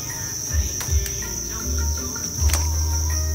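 Dense, steady cricket chirping fills an insect farm raising egg-laden crickets, a bright continuous trill with a few louder clicks and low rustling beneath, no voices present.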